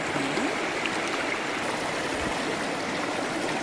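Clear stream water flows steadily at Pinnapuram waterfall, a continuous close rushing and trickling wash with no pause and no voices.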